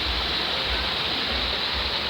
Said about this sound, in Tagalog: Nakusuga kaayo ang agas, hinlo kaayo.